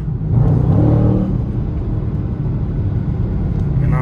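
A Dodge Scat Pack engine whines while driving in traffic, a loud close whirring rumble that swells early and then holds steady, with no talk.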